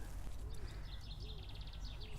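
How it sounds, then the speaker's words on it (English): A chaffinch sings outdoors in spring, a faint, distant descending trill of quick notes repeated a few times over steady low background noise. "it's a chaffinch we can hear"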